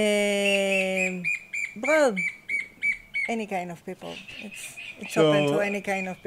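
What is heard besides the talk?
birds singing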